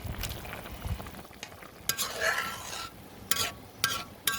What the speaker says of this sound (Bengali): তরকারি বলক এসেছে, এখন আমি তুলে রাখা মাছটা দিয়ে দিচ্ছি।